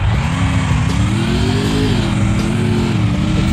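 A motorbike engine in the mobile game Free Fire Lite revs steadily and loudly throughout, its pitch rising slightly and then holding.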